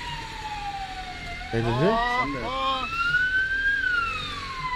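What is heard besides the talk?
ambulance siren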